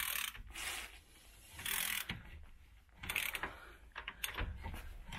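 A spanner working a rear hub nut on a Land Rover Discovery 3/4 or Range Rover Sport, giving bursts of close ratcheting, clicking metal on metal, several separate turns with short pauses between them.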